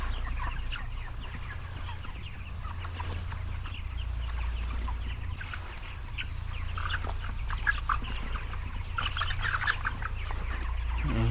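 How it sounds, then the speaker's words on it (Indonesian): Many broiler chickens about 29 days old cluck and murmur steadily over a low constant hum, a busy flock sound with no talking. "Dan kita coba biar kalian dengar suara-suara ayamnya."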